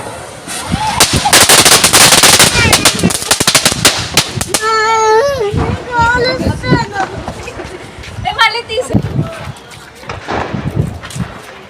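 Rapid strings of sharp Diwali firecracker bursts crackle loudly and densely, then thin out into scattered pops while people shout and talk over them.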